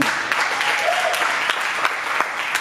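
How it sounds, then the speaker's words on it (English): A young adults' church gathering gives a round of applause, a close, lively burst of clapping with a few sharp individual claps standing out, sustained for a few seconds. "Can we give one more round of applause?"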